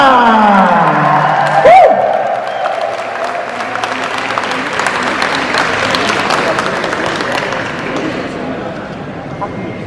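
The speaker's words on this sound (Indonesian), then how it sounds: "Dan selanjutnya tepuk tangan, ini dia pemeran Boni, Livi Ciamanta" An audience claps steadily at a film press conference for "Bonnie" at XXI Epicentrum in Jakarta, greeting actress Livi Ciamanta. Sustained, fairly close applause with crowd murmur, after a brief voiced whoop at the start.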